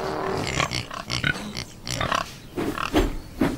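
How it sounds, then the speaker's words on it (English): Pigs on a farm give a series of short grunts and oinks, several bursts at irregular intervals, fairly close and clear, with no talk over them. "Thomas liked their curly tails and the funny noises they made."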